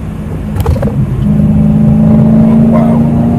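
A supercharged BMW E92 M3 accelerates from inside the car, the engine note rising into a loud, steady drone with a whining supercharger tone and a brief shift early on.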